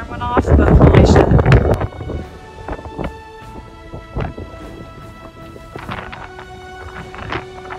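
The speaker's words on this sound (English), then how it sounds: "Today it's just super windy" Strong gusts buffet an anchored boat in the Bay of Saint-Tropez, roaring loudly into the microphone at first and then easing into a rattling, knocking background with occasional sharp clunks.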